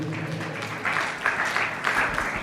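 A church congregation claps together during Sunday prayer. The applause is soft and steady, slightly distant, and rises in a few gentle swells over a couple of seconds, with faint voices mixed in.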